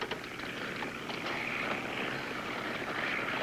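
An airplane on its landing approach to a runway fills the clip with a continuous broad engine drone and rushing noise. The roar is steady and fairly loud, and no one speaks.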